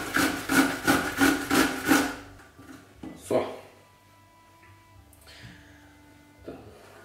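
A cucumber being grated on the coarse side of a grater: rhythmic rasping strokes, about seven in quick succession, close and loud, then stopping, followed by a few faint knocks and handling sounds.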